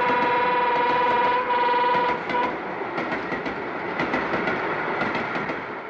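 A train hauling many wagons passes close by in the Italian countryside. A horn sounds first, then loud rolling wheel clatter rumbles on steadily.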